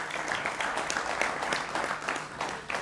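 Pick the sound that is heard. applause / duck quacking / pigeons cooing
applause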